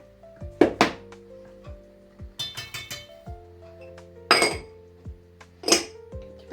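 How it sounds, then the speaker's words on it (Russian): Beer pie batter being stirred in a bowl with a spoon, giving a few loud clinks and thunks against the bowl and dishes, with pauses between, and no talking. "Ну, это скорее не взбиваю, а размешала."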